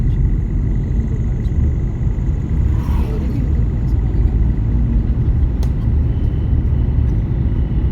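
A car engine rumbles loud and steady from inside the cabin while driving, a continuous low drone with no clear pauses.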